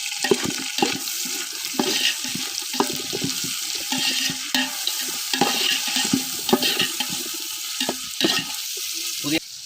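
Onions and mint leaves sizzle in a pan for biryani while a spoon scrapes and stirs them, a steady frying hiss broken by frequent close clicks and scrapes.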